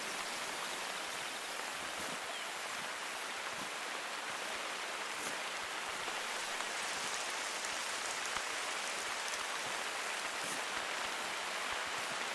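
Rain in a hunting video game about wapiti elk, falling steadily as a dense, even hiss with scattered drop ticks throughout, continuous and moderately loud with no other sounds standing out.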